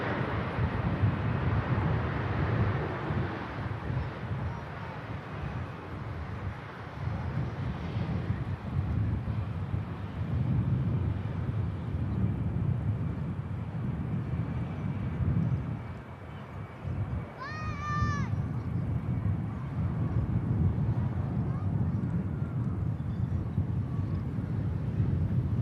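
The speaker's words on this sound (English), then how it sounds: "Ryanair touches down, EasyJet departs on the south side." Jets at Manchester Airport, a Ryanair landing and an EasyJet departing from the south side, heard as a distant sustained engine roar over heavy wind buffeting on the microphone, with a brief chirp near the end.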